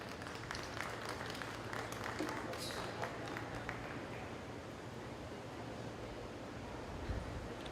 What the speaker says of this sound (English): let's give all three of these young men a round of applause